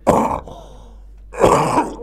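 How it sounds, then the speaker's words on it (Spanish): A person coughs or clears the throat in two harsh bursts separated by a short pause, close and fairly loud, in a talk-show studio setting. "Te dejo toser en tranquilidad."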